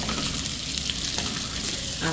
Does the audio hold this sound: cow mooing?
no